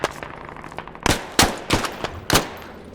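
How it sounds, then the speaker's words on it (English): Enemy gunfire in a war video game: four sharp, loud shots ring out at irregular intervals over a low background clatter, with no voices. "As the sounds of enemy gunshots get closer and closer"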